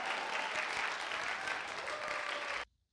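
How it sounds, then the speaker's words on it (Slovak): Sustained applause from a group of people, steady and full for about two and a half seconds before cutting off abruptly to silence. "Potlesk prosím"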